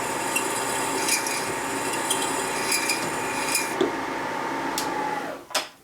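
A drill bit cuts into the exhaust port of a 1977 74ci Shovelhead cylinder head, giving a steady rasping, grinding drone that runs close and continuous for several seconds before stopping abruptly.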